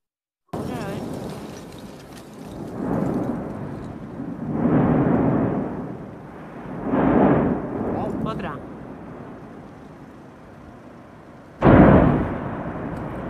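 Volcanic explosions from the La Palma eruption, a series of deep rumbling blasts swelling and fading one after another, with a sharp, loud burst near the end.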